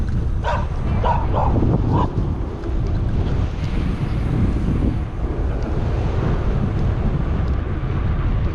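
A dog at a Texas roadside gives a few sharp, loud barks early on, then wind buffeting and road rumble carry on without further barking.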